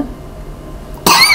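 A man coughs once, a sudden sharp choking cough that bursts loud and close after a quiet pause.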